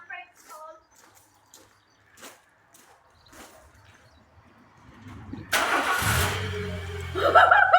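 Starting up in stages: a few faint clicks and quiet voices give way to a sudden cranking burst as a car engine catches and settles into a loud, rough idle, then revs up toward the end.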